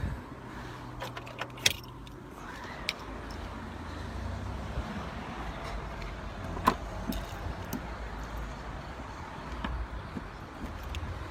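A car owner unlocks and opens the trunk of a used car showing about 169,000 km, with keys jangling close by, a few sharp clicks and latch clunks, and a soft mechanical whir.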